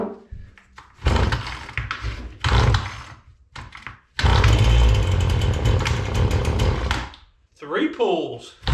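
A cold Husqvarna gas string trimmer, bulb primed and choke up, yanked by its pull cord several times in sharp rasping tugs, one catching into a few seconds of loud buzzing engine roar before dropping off, then a voice speaks.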